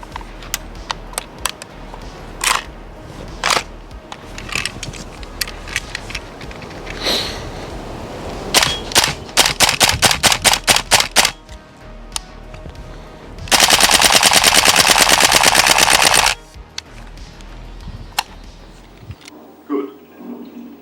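A Tokyo Marui AKM gas airsoft rifle fires scattered single shots, then quick clattering bursts and one long, loud full-auto string of rapid cracks before it stops.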